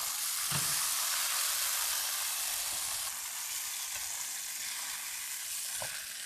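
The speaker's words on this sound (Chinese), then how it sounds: "我要先煎到熟。" Vegetarian food pan-frying until cooked, a continuous close hiss of sizzling oil with a couple of soft knocks, steady throughout with nobody talking.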